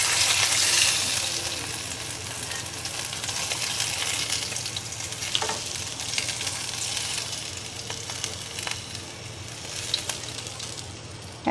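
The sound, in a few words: katla fish frying in mustard oil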